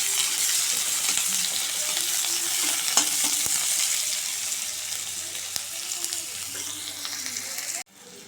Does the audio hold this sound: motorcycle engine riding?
no